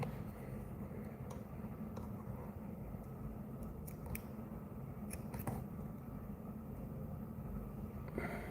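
Scissors trim foam for a stonefly dry fly, giving several faint, sparse snips over a steady low background hum with no talking.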